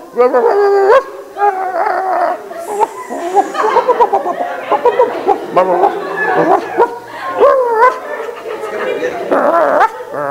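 Several people mimic puppies in place of words, yipping, barking, howling and whimpering over one another in a continuous, lively burst during a group play therapy exercise.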